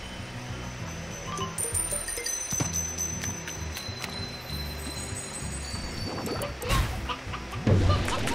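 Chickens clucking in Slime Rancher, a steady scatter of clucks and fowl calls over ambient game sound, with a couple of crashing thuds and a louder impact near the end.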